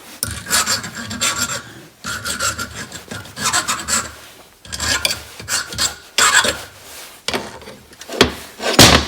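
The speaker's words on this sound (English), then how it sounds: "A handy file would do good." A hand file rasps over the cut edges of a bathroom sink pop-up pivot rod in repeated close strokes, about five bursts separated by short pauses, loud with no talk.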